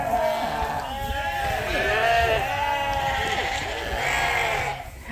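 Sheep bleat close by in a barn as they are herded past a feeder, with several wavering calls overlapping one another. A person talks over the animals.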